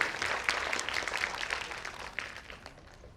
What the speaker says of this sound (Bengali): তাদের জন্য একটু সকলকে জোরে হাততালি দিতে অনুরোধ করব